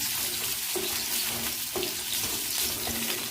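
Two medium chopped onions sizzle in a hot pan for a paneer butter masala, a steady loud frying hiss broken by occasional stirring scrapes.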